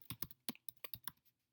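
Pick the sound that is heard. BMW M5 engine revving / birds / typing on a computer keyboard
typing on a computer keyboard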